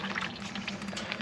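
Liquid poured over a deer skull being prepared as a European mount: a close, steady trickling pour with bubbly splashing and light gurgles, continuous and moderately quiet.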